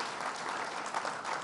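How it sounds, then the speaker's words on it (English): A crowd at a Buffalo State College event gives a short burst of steady, dense applause, heard alone without talk. "Give him a round of applause."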